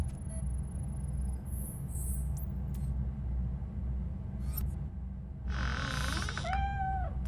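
A cat meows in the RoboCop Rogue City video game over a constant low rumble of background ambience, with a drawn-out wavering cry near the end and a few faint earlier sounds.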